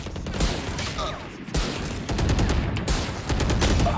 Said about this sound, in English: Stop shooting so fast, Leon.